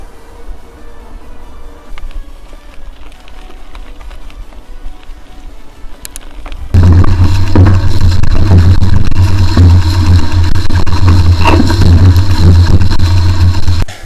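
A car on the way to a landscape park in Poland, engine noise and road rumble rising sharply partway through to a loud, steady drone that fills the rest of the drive.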